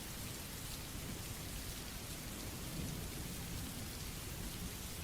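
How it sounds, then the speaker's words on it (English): Soft rain falls steadily against windows, a dense even hiss of drops that stays constant and close throughout, with no voices. "The soft rain still tapped on the windows"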